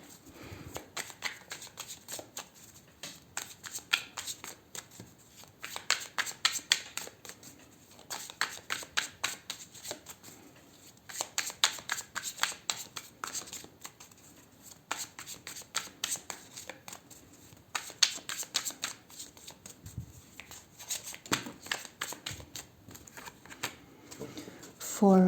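A deck of tarot cards is shuffled over and over in repeated riffling bursts, each a quick flurry of crisp papery flicks, separated by short pauses, close and fairly quiet.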